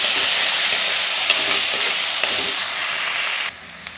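Onion, peas and potato sauté in oil for oats upma, giving a loud, dense, continuous frying hiss with a few faint stirring taps that drops away abruptly near the end, with no voices.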